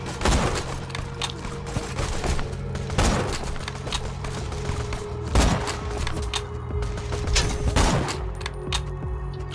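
Sniper rifle shots in Borderlands 2 crack out in a slow series, about four or five heavy booming reports spaced a couple of seconds apart over a continuous game background.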